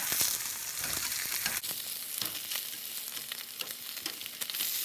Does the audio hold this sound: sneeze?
no